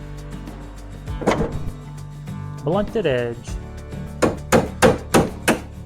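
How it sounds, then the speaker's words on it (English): A hammer taps lightly at trim on a Triumph TR8 during a tear-down, a few scattered knocks followed by a quick run of five or six evenly spaced, close taps, with someone speaking briefly in between. "Just letting the weight of the hammer fall. We're not hitting it hard."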